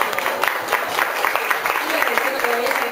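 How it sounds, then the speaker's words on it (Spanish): An audience claps during a company's second-anniversary celebration, with dense, continuous applause at moderate volume and light crowd murmur underneath, sustained throughout. "así que yo la voy a aplaudir, la verdad"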